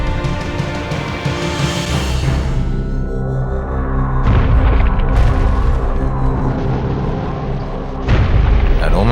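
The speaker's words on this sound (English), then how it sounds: "the harbour is rocked by a devastating series of explosions" A series of heavy depth charge explosions rocks a harbour, deep booming blasts rolling one after another under a dense, sustained low rumble, with fresh loud bursts breaking in partway through and near the end.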